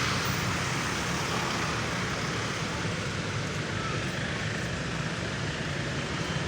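Steady, dense street traffic in Poblacion, a continuous broadband roar of passing vehicles and engines with no breaks, fairly loud and close throughout.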